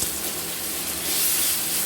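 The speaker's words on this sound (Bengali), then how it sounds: "এবার ওই তেলেই আমরা দিয়ে দেব আলু। আলুগুলো একটু হালকা ভেজে নেব।" Potatoes fry in hot oil in a home kitchen, a steady close, loud hiss and sizzle that runs without a break and swells slightly toward the end.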